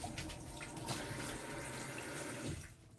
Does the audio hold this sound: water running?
yes